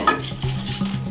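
A utensil beats a vegetable omelette mixture made with atta flour in a bowl, producing close, rhythmic clinking taps and swishing strokes.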